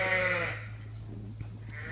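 A ewe lets out a single bleat, loud and close at the start, then fades into quiet farmyard ambience with a steady low hum and faint rustling.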